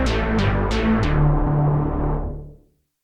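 Cherry Audio Memorymode, a Moog-style software synthesizer, sounds a thick 48-voice stacked tone with several sharp attacks, sustaining briefly before fading out to silence.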